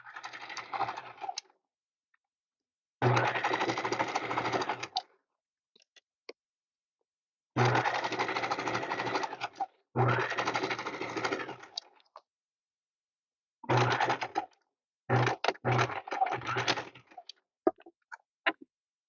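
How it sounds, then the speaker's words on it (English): Sewing machine top stitching a DIY packing cube, running in several close bursts of a few seconds each, separated by silent pauses and short stuttering starts. "top stitching done"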